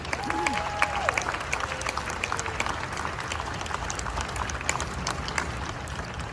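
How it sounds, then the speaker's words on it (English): Audience applause at the grand opening celebration of the Pixar Place Hotel at the Disneyland Resort, a steady wash of clapping from a crowd that holds for several seconds, with a faint voice and a few tones underneath. "let's have a round of applause for all three of those groups"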